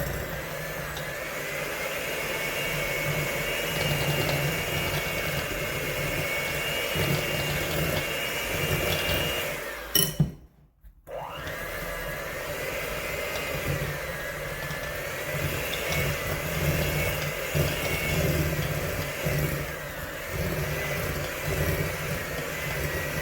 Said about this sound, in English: I'm going to turn this mixer on here, and it might get a little bit loud.